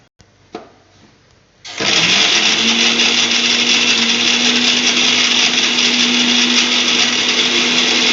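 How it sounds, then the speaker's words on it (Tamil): A mixer grinder coarsely grinds coconut: a few faint clicks, then the motor kicks in at about 1.7 seconds and runs as a loud, steady, close whirring drone to the end, with no talking. "இப்போ தேங்காய் இதில் போட்டிருக்கேன் இதை கொஞ்சம் பரபரன்னு பிரிச்சுட்டு அதுக்கப்புறம் மற்ற பொருளெல்லாம் சேர்த்தேன்"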